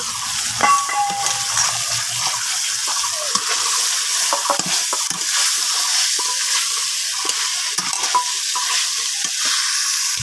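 Taro stolons are tipped into a frying pan with a curry of hilsa fish and stirred, giving a loud, continuous sizzle broken by scraping and clattering stirring strokes close by, with no voices.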